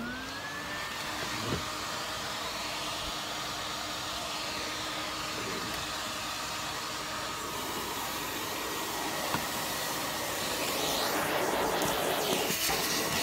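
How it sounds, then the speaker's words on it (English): A Kirby G6 2000 Limited Edition vacuum cleaner runs steadily with a loud, continuous whirring roar that swells slightly near the end. "Let me get my vacuum on."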